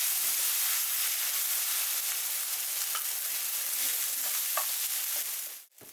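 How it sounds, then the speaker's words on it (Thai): Green curry fried rice with coconut cream and palm sugar stir-fried in a pan, a steady close sizzle with light scraping stirs throughout, cutting off abruptly near the end. "ผัดนี้เขาก็สิผัดให้มันแห้งเนาะค่ะเนาะเพราะว่ากระพัดต้องแห้งค่ะ"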